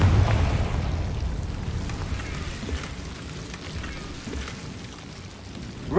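A fiery Confringo blast spell explodes in Hogwarts Legacy, opening with a loud low burst that settles into a crackling, rain-like rumble and fades over several seconds.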